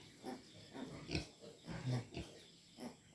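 Native piglets on a farm give a series of short grunts and squeals in irregular bursts, fairly near and moderately loud, with no talking.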